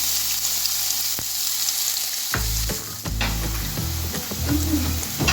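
Steady, loud sizzling of a medium onion frying in hot ghee, with occasional clinks and scrapes of a utensil stirring in the pan.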